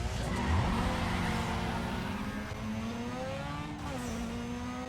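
Engine roar and screeching tires as AI-driven cars collide in Need for Speed Underground 2, a dense continuous wash of revving motors and skidding rubber with pitch sweeps, loud and close throughout.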